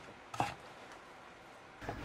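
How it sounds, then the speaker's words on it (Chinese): Pickled radish being sliced with a kitchen knife on a cutting board: two quiet, separate thunks about a second and a half apart, set against a faint room hush with no talking. "再把准备好的酸萝卜切成片备用"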